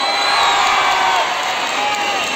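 Outdoor youth concert crowd in Erbaa, Turkey, loud sustained cheering with applause and high whistling, a dense continuous roar filling the whole moment.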